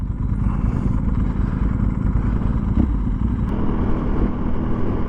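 A Ducati 998S, a sport bike over twenty years old, runs at speed with a loud, steady engine drone and wind rush, marked by a brief gear change partway through.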